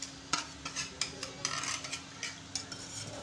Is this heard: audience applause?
no